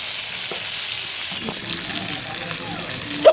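New potatoes with salt and turmeric frying in oil for alur dom, a steady close sizzle with occasional soft stirring and a sharp clink at the end.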